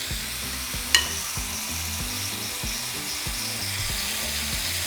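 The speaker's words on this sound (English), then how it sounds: "we're going to place our meat" Carne asada meat sizzles loudly in a hot pan for gorditas, a dense continuous frying hiss with a sharp clink near the start and a rhythmic low scraping underneath, with no talking.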